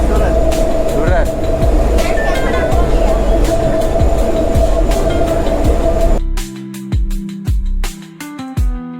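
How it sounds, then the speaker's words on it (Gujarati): Train travelling between Bharuch and Surat, a rumbling carriage with a steady hum and clattering wheels, then a sudden quieter stretch of sharp rail clacks near the end, with voices talking over it. "વચ્ચે છે ને ટ્રેન ઊભી રાખી દીધી ને બધા ઉતરે છે."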